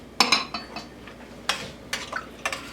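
A metal spoon scrapes and clinks against a pot of cabbage roll soup in several quick, irregular strokes, close and fairly quiet, with no talking.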